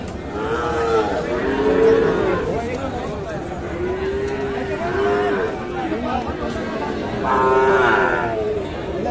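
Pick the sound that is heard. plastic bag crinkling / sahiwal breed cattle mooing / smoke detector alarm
sahiwal breed cattle mooing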